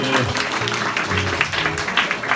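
Audience clapping at a Christmas joint concert in a bar, a steady dense burst of applause that holds at the same level for a couple of seconds with no voices over it.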